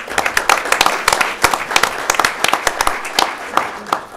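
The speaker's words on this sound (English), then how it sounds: "let's give them a round of applause" Applause from a city council meeting audience honoring school award winners, a steady wash of many hands clapping with sharp individual claps standing out, fairly loud and continuous throughout.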